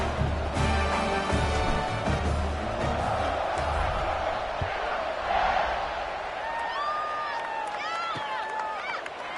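A stadium crowd at a Florida Atlantic Owls college football game cheers and roars loudly and steadily, with whoops and whistles above the din and an announcer talking over it.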